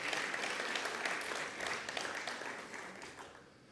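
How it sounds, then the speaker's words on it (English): An audience applauds the Honorable Minister after a keynote address at a conference opening ceremony. The clapping is sustained and dense from start to finish and fades slightly near the end. "join me once again to give a hand of applause to our Honorable Minister"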